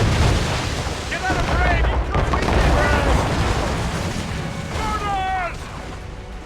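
Ship cannons fire during a naval battle in the video game Assassin's Creed Rogue, giving deep, rumbling booms that roll continuously under shouted voices.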